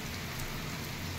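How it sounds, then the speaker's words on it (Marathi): Steady rain falling in a rural village, a dense even hiss with faint patter close by, no voices. "बघा पलीकडे तुम्हाला दिसते कसा मोठा पाऊस चालू आहे"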